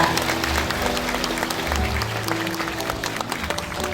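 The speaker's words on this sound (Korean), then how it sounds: "큰 박수 부탁드리겠습니다" An audience at an indoor commemorative ceremony in a small concert hall applauds steadily, a dense, even wash of many hands clapping that holds for several seconds without a break.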